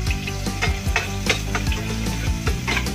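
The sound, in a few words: sautéing garlic in a pan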